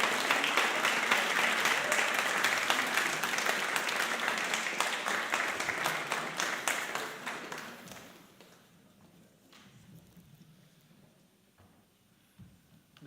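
An audience at a panel event applauds warmly for several seconds as panelists come up to join, the clapping fading out around the midpoint into quiet room noise with faint movement.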